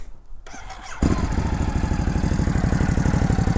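A 2019 Ducati Hypermotard 950 motorcycle cranks and fires up, then settles into a loud, close, throbbing idle with a steady pulsing beat.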